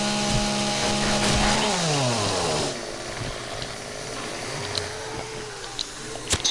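A chainsaw in the video game 7 Days to Die runs with a loud droning buzz that winds down partway through, then gives way to quieter scattered clicks and knocks.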